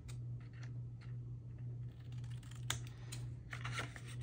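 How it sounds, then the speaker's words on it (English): Scissors trim the inside of a paper gift box, making faint close snips and light paper rustles over a steady low hum. "But we're going to trim the insides"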